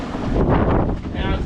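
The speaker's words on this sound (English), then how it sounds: "we got a lot of wind." Strong northeast wind of 15 to 25 knots roars across a sailboat's microphone at night, a steady loud buffeting rush with gusty swells throughout.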